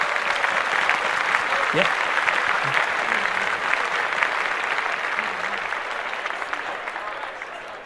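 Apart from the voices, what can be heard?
applause for Jay-Z's birthday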